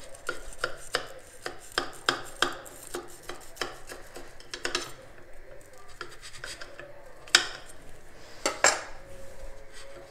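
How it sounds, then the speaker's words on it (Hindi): A knife cuts through a chicken sandwich on a plate, giving a run of quick, close scraping and clinking strokes, followed by a few louder clatters of metal against the dish. "अब हम इसको छुरी की मदद से काट लेंगे।"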